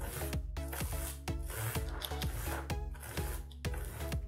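Metal model tank track links being rubbed down at the grousers, a repeated rasping scrape in steady strokes, close and fairly loud over a low background hum, with no talking.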